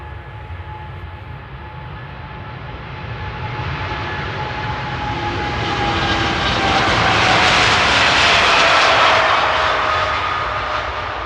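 Airliner jet engines roaring during takeoff at Amsterdam Airport, a broad loud rumble and whine that swells steadily as the aircraft passes, peaking near the end, heard outdoors from a distance with no talk.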